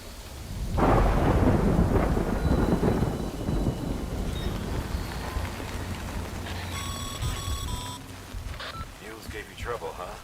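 A heavy thunderclap rolls in and rumbles on over steady rainfall in the game Death Stranding, loud and close at first, then fading to a low ongoing downpour with brief electronic tones and a voice near the end.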